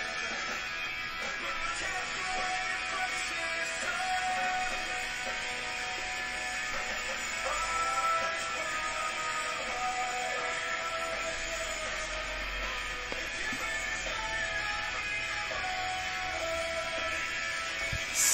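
A song by the rock band plays throughout, a dense, steady band mix of guitars and vocals at a constant moderate level with no talking over it.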